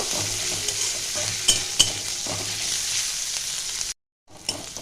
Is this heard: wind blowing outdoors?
no